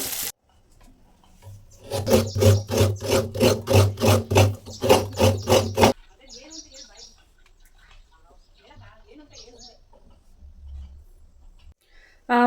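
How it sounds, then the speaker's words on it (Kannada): Coconut scraped on a traditional coconut grater board makes a run of about a dozen rhythmic, close rasping strokes, followed by a stretch of quieter, scattered background sounds. "ನಾನು ಕಾಯಿ ತುರಿಯೋಕ್ಕೆ ನೋಡಿ ಈ ಥರದ್ದೊಂದು ಕಾಯಿ ತುರಿಯೋ ಮಣೆ ತೊಗೊಂಡಿದ್ದೀನಿ"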